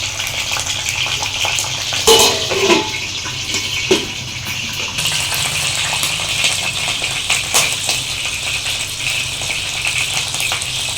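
Tomatoes fry in a pan for a tomato and green chilli chutney, giving a steady, close sizzling hiss throughout, with a few brief clatters early on.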